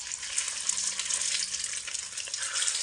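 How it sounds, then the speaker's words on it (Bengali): Halved boiled eggs fry gently in a pan, giving a steady, bright crackling sizzle that runs evenly throughout at moderate loudness, with no voices. "তো ডিমগুলোকে এরকম করে একটু হালকা করে ভেজে নেব।"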